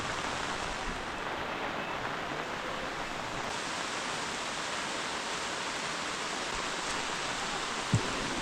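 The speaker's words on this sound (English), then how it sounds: "Soundtrack, rain on the leaves, bird calls, countless insects." Rain falls on leaves in the forest near Hebbe Falls in Karnataka, a steady dense hiss that stays even throughout, with one brief sharp tap near the end; no bird calls or insects stand out.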